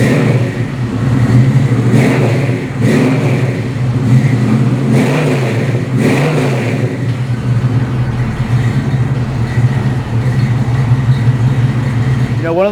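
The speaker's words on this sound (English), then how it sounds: "How about I start it for you so you can hear what it sounds like." A 1970 Ford Mustang Mach 1 engine turns over and catches, then settles into a loud, rough idle with several blips of revving, recorded up close with occasional speech.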